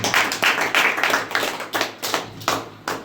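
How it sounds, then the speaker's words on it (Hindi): Claps ring out at a Hindi Christian sermon gathering in an even rhythm, about three per second, loud and close with no talking. "एक अच्छा ताली बजाए मैं लोग।"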